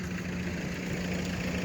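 A car engine idles steadily with a low, even hum, quiet and continuous, after running for nearly an hour with a replaced cooling reservoir.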